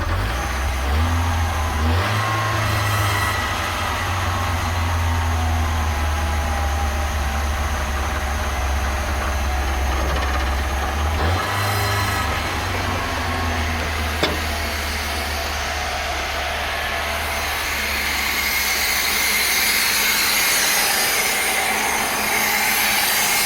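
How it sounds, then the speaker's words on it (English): A 1982 Datsun 720 4x4 pickup engine idles steadily and close, a low rumbling drone that briefly swells twice as the idle rises, with no voices. "Now that she's warming up, I can back that idling off a little more."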